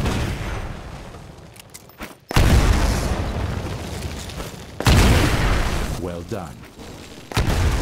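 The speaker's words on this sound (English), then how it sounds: "Throw a grenade into each of the windows." Grenades exploding in a Titanfall training level, three heavy booms spaced a few seconds apart, each with a long rumbling decay, while a voice briefly speaks between blasts.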